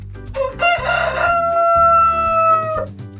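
A rooster crows once, a loud, drawn-out cock-a-doodle-doo lasting over two seconds, near and alone with no voices.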